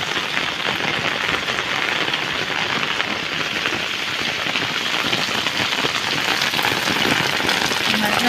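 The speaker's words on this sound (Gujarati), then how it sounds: "મોલ માટે માણસ માટે પણ એ નુકસાનકારક છે આ વરસાદ." Heavy monsoon rain pours down steadily on farmland, a dense, loud hiss of drops hitting surfaces without pause throughout.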